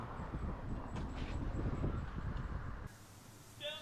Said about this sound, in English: the wind started really kicking on this hole